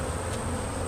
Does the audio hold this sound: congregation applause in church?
no